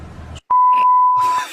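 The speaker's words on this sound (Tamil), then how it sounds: "பீப்ல போட்டாலும் உங்களுக்கு புரிஞ்சிருக்கும்னால கண்டிப்பா புரிஞ்சிருக்கும்" A loud, steady, high-pitched censor beep cuts across speech and lasts under a second, with talking heard just before and resuming around it.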